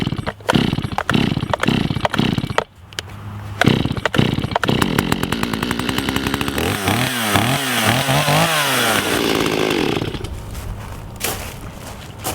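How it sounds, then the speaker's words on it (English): Chainsaw started after several pull-cord tugs: sharp rasping pulls and brief sputters, then the engine catches and revs loudly, settling into a steady idle close by. "it started right up, and I don't think anybody would have a problem with the saw taking a few more pulls"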